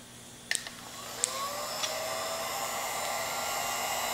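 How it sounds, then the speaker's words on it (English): Heat gun switched on and running with a steady whooshing blower hum, after a few brief clicks and handling knocks near the start, continuing without talk. "you can go ahead and you can turn your heat gun on"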